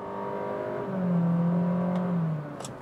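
A 2023 Volkswagen Virtus Highline launching hard in a 0 to 100 run, the engine note climbing loud and close, then easing off as a brief click sounds near the end.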